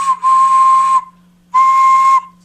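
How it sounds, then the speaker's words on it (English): Clay flying rabbit whistle blown in two loud, pure, steady tones, each about a second long, separated by a short pause. "So we're going to start with the whistle and make sure that it works."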